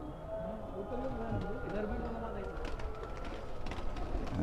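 An Allahabadi tournament pigeon, red-eyed and light in weight, gives a few soft, wavering coos in the first half, then scuffling and tapping noises over a steady background hum.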